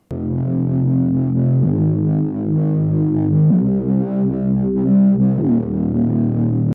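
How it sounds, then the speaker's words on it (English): A melodic house bassline from a Serum preset run through Sausage Fattener distortion: gritty, thick sustained bass notes following a chord progression's root notes, changing pitch every couple of seconds, loud and alone. "Added sausage fattener to give it that gritty distortion"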